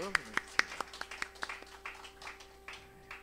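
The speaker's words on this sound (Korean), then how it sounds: "박수" A church congregation claps to welcome a new teacher. A burst of sharp, separate claps starts strongly, then thins into scattered, fading claps in a moderately reverberant room.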